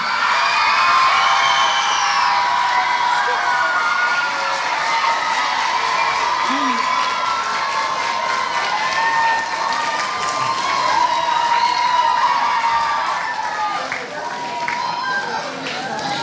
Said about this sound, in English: every year, the loudest applause comes for Coach K